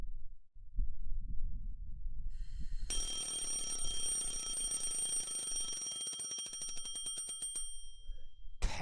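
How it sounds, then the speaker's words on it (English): An alarm clock starts ringing abruptly after a low rumbling start, a loud, rapid metallic bell that rattles on for several seconds before cutting off sharply. "I shut off the alarm by reflex."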